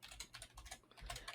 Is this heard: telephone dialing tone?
no